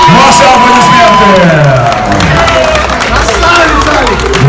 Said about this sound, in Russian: Друзья, ваши громкие аплодисменты!